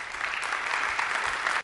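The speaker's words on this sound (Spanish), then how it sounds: "Démosle un aplauso, por favor." Audience at a financial presentation gives steady, moderately loud applause, continuous clapping with no voices over it.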